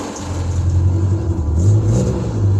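A car engine revving loudly up close, freshly restarted after winter storage and warming up, with a steady low drone that swells into higher revs and settles again.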